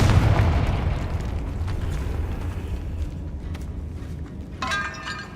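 A deep, rumbling explosion from the Confringo blasting spell in Hogwarts Legacy, followed by a brighter crackling burst near the end, with no talk over it.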